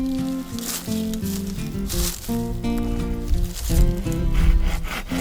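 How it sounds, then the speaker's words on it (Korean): Gathered tree branches are cut by hand with a handsaw outdoors in a countryside garden, steady rhythmic rasping strokes running back and forth throughout at close range. "톱질을 왜 저렇게 손으로 들고 하는지"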